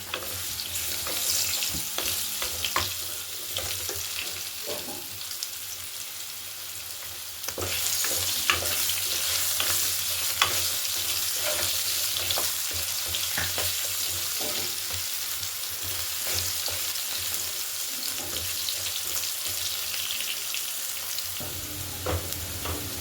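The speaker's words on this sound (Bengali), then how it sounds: "কেটে রাখা আলু দিয়ে ভালো করে ভেজে নেব লাল লাল করে" Cut potatoes fry in oil seasoned with five-spice, a dense, even sizzle running throughout, broken by frequent sharp clicks and scrapes of stirring.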